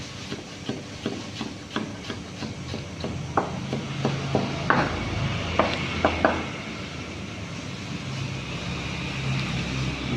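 Knife chopping tomatoes finely on a board for Indian chana masala, a run of sharp evenly spaced taps that quickens and then fades, over a steady background hiss.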